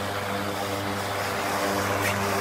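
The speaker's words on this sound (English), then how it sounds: "There is some noise while this is running." A solar-powered exhaust fan (model 1825-AG) with wind-operated louvers runs in a steady mechanical drone with a low motor hum and broadband whooshing, constant and fairly close, with no talking.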